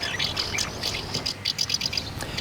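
Swallows chirping near nests under a roof, a rapid run of high, bright twittering calls repeated in quick bursts, close and clear over a faint outdoor background, with no talk.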